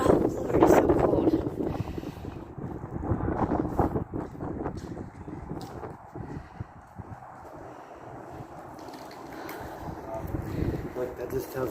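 A cold draft gusts through a third-floor factory, buffeting and roaring against the microphone in uneven bursts that ease off partway through, with a person talking over it near the start.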